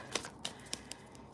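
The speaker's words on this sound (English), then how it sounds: "while I do a few more shuffles" Tarot cards being shuffled by hand, a series of crisp papery riffle bursts spaced roughly a quarter second apart, close and moderately quiet with no talking.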